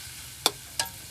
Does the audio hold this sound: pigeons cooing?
no